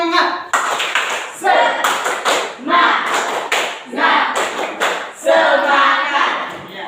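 A school class performing a rhythmic spirit clap: bursts of group clapping in a set pattern, mixed with voices chanting along, loud and close in a classroom.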